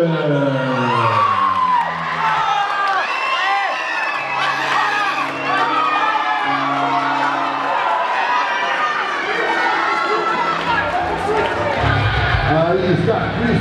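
A wrestling show crowd in Campinas cheers, whoops and shouts loudly and continuously as a tag team makes its entrance, with an announcer's amplified voice and music carrying over the din.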